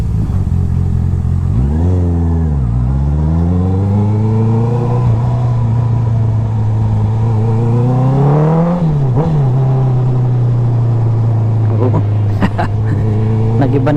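A motorcycle with an Akrapovic titanium muffler, ECU tune and velocity stack revs up sharply from idle, drops back to a steady drone, then blips again. The exhaust is close and loud throughout, with brief clicks near the end.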